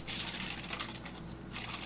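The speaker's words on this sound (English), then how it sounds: "let's go back to the alcohol. So we'll just pour a little bit in the cup." Alcohol is poured into a cup in a steady, close trickling stream of liquid that runs for about two seconds, without talk.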